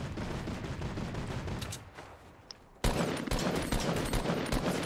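Gunfire in the Fortnite Battle Royale video game: dense bursts of rapid shots, a quieter lull, then a loud renewed volley of close, sustained fire.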